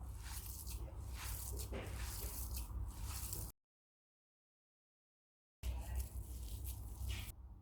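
Soaked aval (flattened poha) being mashed together with onions in a bowl, giving wet squishing, squelching sounds that run steadily for a few seconds, stop, then start again, close up and fairly loud.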